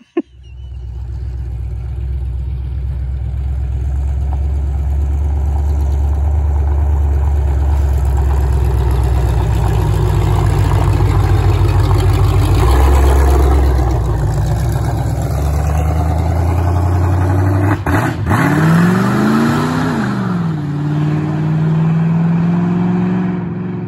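A convertible car's engine idles steadily close by with a low, continuous rumble, then revs up sharply several times near the end before settling back down.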